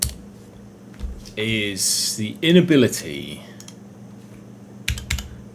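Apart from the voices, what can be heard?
pressing keys on a computer keyboard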